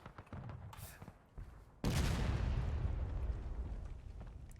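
Gunfire and explosions in the 100-player WWII-style battle game Generals At War, European event: scattered shots at first, then a loud sustained burst of heavy firing and booms that rolls on to the end.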